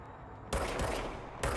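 A pistol firing in the video game Control, two bursts of loud blasts close up, the first sustained for nearly a second and a second starting just after.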